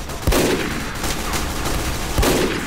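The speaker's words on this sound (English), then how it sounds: "I tried to shoot the spy." Gunshots in the video game Team Fortress 2 ring out as two sharp, loud blasts about two seconds apart over dense, continuous game noise.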